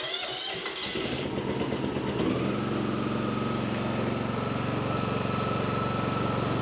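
John Deere F525 lawn mower engine starting up and settling into a steady, loud running drone, initial rough sputtering giving way to an even idle held to the end.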